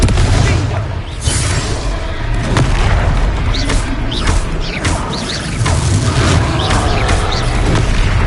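A Confringo explosion spell in a Harry Potter video game, with loud, booming blasts and rumbling battle noise over a dense, continuous game soundscape, up close and alone.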